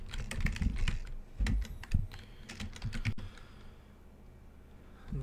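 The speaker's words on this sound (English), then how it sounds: "That's not at all how you type that name." Rapid clattering keystrokes on a computer keyboard as a name is typed, close and fairly loud in uneven bursts, then trailing off into near quiet for the last couple of seconds.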